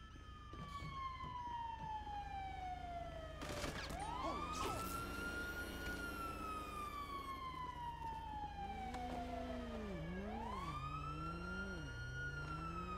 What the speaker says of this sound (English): those sirens are everywhere